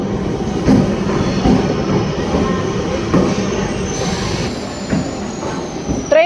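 A train rolls past very close, with a loud, steady rumble of wheels and wagons, and a sharp wheel squeal near the end.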